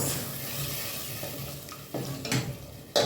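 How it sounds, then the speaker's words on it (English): A simmering tomato-based sauce in a pot being given a good mix, with a soft bubbling sizzle beneath a few louder scraping stirs and clinks of a spoon near the end. "We're gonna give this a good mix."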